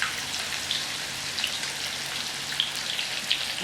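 Catfish fillets frying flesh side down in a pan, giving a steady crackling sizzle with scattered sharper pops throughout.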